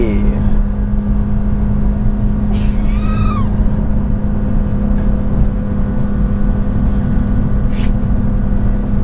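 A 2023 Nissan Versa accelerating hard from a standstill, heard from inside the cabin as a steady loud engine drone with road roar, a few brief voices of occupants breaking in near the start and end.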